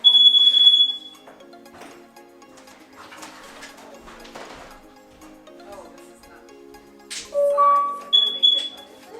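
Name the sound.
Google Nest Protect smoke and carbon monoxide alarm test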